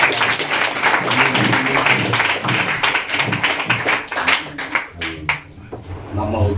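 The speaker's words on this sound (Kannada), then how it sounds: "ಡಾಕ್ಟರ್ ಅನಿಲ್ ಸರ್ಗೆ ಎಲ್ಲರೂ ಒಂದು ಚಪ್ಪಾಳೆ." An audience of children at a Children's Day celebration claps for a visiting guest, a dense, steady round of applause that thins out into scattered sharp claps near the end.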